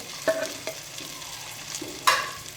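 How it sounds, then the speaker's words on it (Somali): Two large chopped red onions frying in butter in a pan, a low continuous sizzle broken by a few sharp stirring scrapes and clinks, close up and with no talk. "meesha waxa ku haysanaa waa basashii oo soo jarjaray ayaan hadda ku soo shubayaa"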